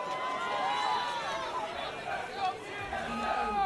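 Crowd of spectators filling the arena at the LCS semifinals in Los Angeles, a steady loud babble of chatter and cheering that holds throughout with small swells.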